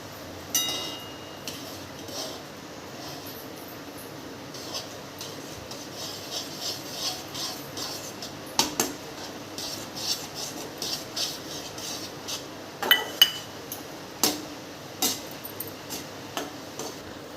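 Semolina with salt and chili flakes stirred in a pan on the stove, giving quiet irregular scrapes and light clinks of the utensil against the pan, with a few sharper taps near the end and no talking.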